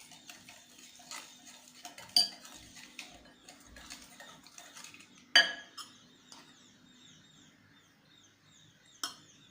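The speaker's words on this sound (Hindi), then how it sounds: "ये इस तरह से थोड़ा थोड़ा मिलाते जाएंगे, मिक्स करते रहेंगे।" A utensil stirs red velvet cake batter in a bowl while dry ingredients are mixed in, giving soft scraping and intermittent clinks, with three sharper knocks against the bowl.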